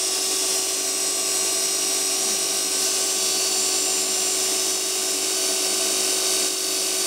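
A small repaired motor with a weak field runs at high speed and its commutator races, a loud, steady, high-pitched whine with buzzing electrical hum throughout, no talking.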